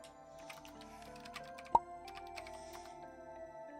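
Keyboard typing in a visual novel game, a soft run of quiet clicks over steady background music, with one sharp louder tap partway through.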